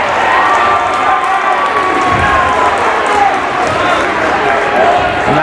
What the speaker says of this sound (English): that got the crowd going a little bit